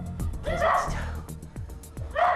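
Bedlington terrier barking in short sharp yaps at home, several quick barks close by with people talking around them.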